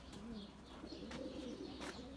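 Pigeons kept for flying, including a male bird, coo softly in a low repeated murmur close by, with faint chirps and ambient noise around them and no talk.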